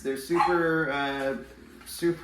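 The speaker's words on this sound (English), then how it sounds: "Sorry about the dog barking." A dog barking indoors, with short sharp yelps in the background while someone talks over them.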